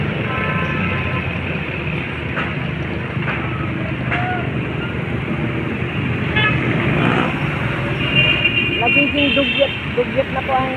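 Busy street traffic at the Tayuman intersection in Manila, with a steady roar of engines, passing vehicles and occasional horn toots, while someone talks over the din.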